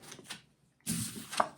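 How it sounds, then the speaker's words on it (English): Tarot cards shuffle in two brief riffles split by a short pause, close and fairly faint. "let's go ahead and shuffle"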